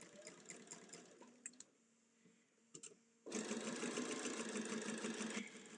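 A sewing machine stitches straight through a LeMoyne star quilt block, its motor whirring steadily in a loud sustained run after a few short bursts and a quiet pause.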